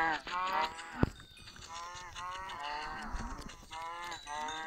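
Cows low in a farming video game, several overlapping drawn-out moos and bellows with a sharp click partway through, sounding close and fairly steady.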